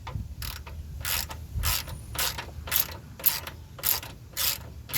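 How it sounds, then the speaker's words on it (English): A 17 mm wrench works a rusty nut on a 2003-2009 Toyota 4Runner during rack and pinion replacement, giving a run of close, rhythmic metallic ratcheting clicks in short bursts, with no talking. "I'm going to try the wrench, see if it's just some rust, because the nuts didn't look like the best condition"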